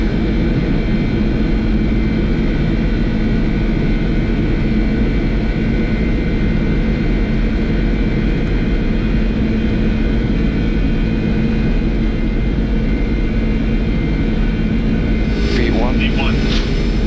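Boeing 747-400 jet engines spool up to takeoff thrust, a loud, steady roar and whine heard from the cockpit, with brief crew voices over it.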